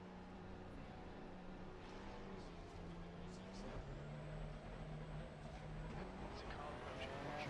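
A GT3 race car engine in a racing video game hums steadily at a low level, with a couple of distinct gear changes shifting its pitch.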